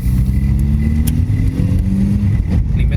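A Volkswagen Scirocco Mk2, once abandoned, drives on a test run with its engine note loud and close, a steady droning rumble that rises slightly as it pulls, with no one talking.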